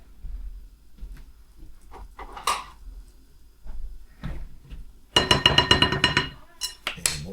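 A fork stirs lasagna filling with cheese and parsley flakes in a bowl, starting with soft scattered taps and turning into a quick run of rhythmic metallic clinks against the bowl near the end.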